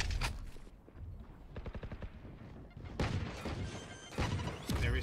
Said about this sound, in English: So there we see a nade coming in.